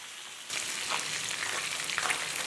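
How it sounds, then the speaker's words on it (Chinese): Marinated fish pieces hit hot oil in a pan and burst into a loud, steady sizzle that holds evenly to the end, with no voices. "锅内倒油，放入腌制好的鱼块煎制"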